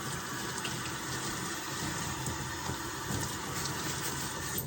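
A kitchen strainer rinsed under a running tap, a steady close rush of water with faint splashing changes as it is moved about, continuous throughout.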